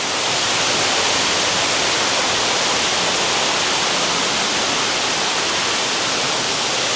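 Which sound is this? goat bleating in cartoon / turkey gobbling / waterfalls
waterfalls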